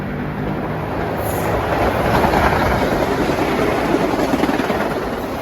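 A Metro-North commuter train passes close by on the rails, a loud steady rumble of wheels and cars that swells slightly mid-pass and holds throughout.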